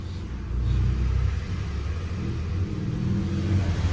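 A car engine idling while warming up, a close steady low rumble with slight fluctuations, no talking.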